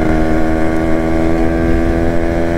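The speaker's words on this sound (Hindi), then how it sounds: "बाकी अपनी आरएक्स एक नंबर चलती हुई" A Yamaha RX two-stroke motorcycle with a disc brake fitted runs at a steady pace, its buzzing engine loud and close, holding an even note without any talk.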